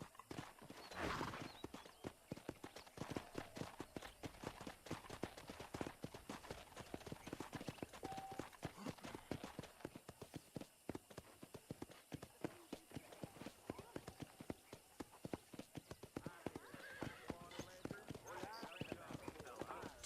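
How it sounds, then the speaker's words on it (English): Hooves clip-clop in a quick, steady trotting rhythm as a horse moves along a ranch in the video game Red Dead Redemption, faint under spoken dialogue, with a short whinny near the start. "I picked out a fine horse for you. Giddy up!"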